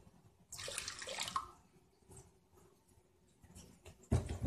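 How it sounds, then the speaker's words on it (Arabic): Tap water pours into a pot of anise seeds in a home kitchen, one quiet splashing burst of about a second, then near silence, then a short second splash at the end. "احط عليهم كوبايتين مية كده عادي، من كوبايتين مية من الحنفية عادي يعني"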